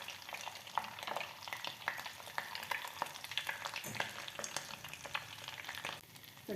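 Curry leaves frying in hot homemade ghee give a steady crackling sizzle with dense bursts of small pops, close and continuous, with no voices present.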